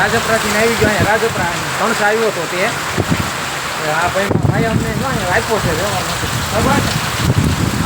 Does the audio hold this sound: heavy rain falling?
yes